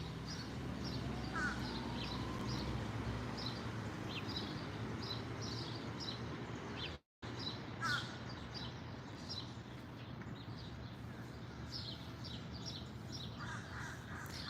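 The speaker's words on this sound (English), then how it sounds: "we'll just enjoy the birds here," Crows caw repeatedly over a steady outdoor background in a city park green space in Logan Circle, Washington, with occasional other bird calls scattered throughout; a brief dropout breaks the ambience midway.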